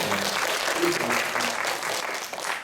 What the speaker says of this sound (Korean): 제일 멀리서 박수 한번 쳐드릴까요?